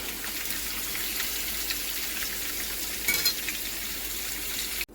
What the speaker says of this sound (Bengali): পনির ভাজা তেলের মধ্যে গোটা গরম মশলা ফোড়ন দিয়ে দেবো।